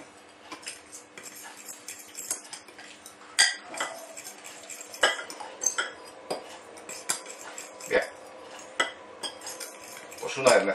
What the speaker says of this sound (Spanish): Lo removemos un poco,